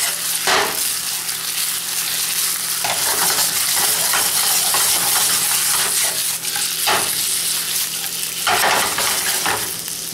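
Chicken cubes sizzle steadily as they brown in a hot pan for chicken a la Greek, a loud continuous fry broken by a few sharp clinks and scrapes of a utensil stirring against the pan.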